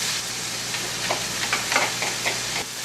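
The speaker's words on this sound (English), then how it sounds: "I am going to add 8 garlic cloves, which I minced." Minced garlic and softened onion sautéing in a pan for a ground beef and pork empanada filling, a steady hissing sizzle with a few scattered stirring scrapes, close and moderately loud.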